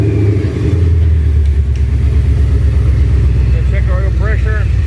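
A 1000hp Ford SVT Lightning engine fires up and settles into a loud, throbbing idle with a steady low rumble, and a voice speaks briefly over it near the end.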